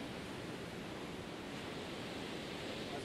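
Ocean waves break and wash at North Gare under a low-flying drone, a steady broadband roar of surf mixed with wind buffeting, continuous and moderately loud with no voices.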